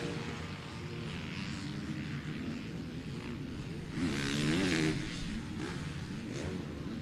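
Yamaha and Kawasaki motocross bikes race over a jump wall at a spring championship event, engines droning steadily with a louder surge midway as the riders pass, crowd and track noise blended underneath.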